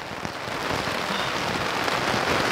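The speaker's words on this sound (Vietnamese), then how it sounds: "Hiện tại đang là 7 giờ tối và trời nó vẫn mưa bạn ơi." Rain pours on a cheap camping tent in the evening, a dense, steady hiss and patter of drops close by, continuous throughout with no voices.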